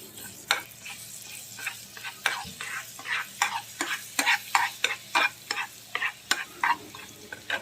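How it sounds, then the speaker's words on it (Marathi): Oil and butter heating together in a frying pan for a pav bhaji tadka, with a steady frying hiss and a run of repeated scraping, stirring strokes from a spatula, close and moderately loud, with no talk. "फ्राय पॅन तापत ठेवला त्याच्यामध्ये तेल आणि बटर मिक्स करून घ्यायचं"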